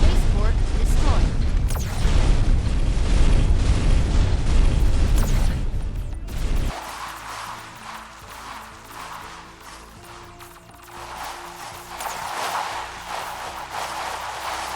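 A deep, rumbling explosion roars for several seconds as an enemy base core is destroyed in a sci-fi factory-building game, then cuts off abruptly, leaving quieter layered electronic tones and hum.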